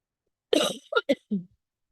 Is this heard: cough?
yes